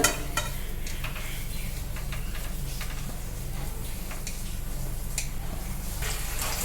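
Potato pieces sizzle and fry in hot oil in a wok while being stirred, a constant crackling hiss with scattered clicks and scrapes of the utensil against the pan, close and steady with no voices.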